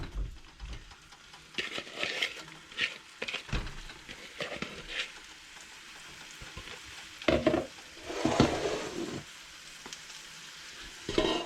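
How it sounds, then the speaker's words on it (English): Onions dropped into melted fat in a pan for French onion soup sizzle and crackle steadily, with repeated stirring scrapes and a few louder bursts as more onion goes in. "we're going to go ahead and add our onions"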